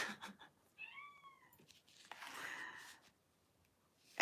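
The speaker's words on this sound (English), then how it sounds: "That cat's driving me fucking crazy." An indoor cat meows once with a clear rising-falling cry, followed by a breathy sigh-like sound, with a brief noise at the start and end and otherwise quiet surroundings.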